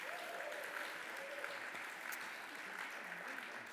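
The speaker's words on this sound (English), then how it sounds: "you can give them a round of applause" An audience applauds as two performers are introduced at the opening of a summer music series, a steady, even wash of clapping that stays fairly faint and distant throughout, with a few voices faintly mixed in.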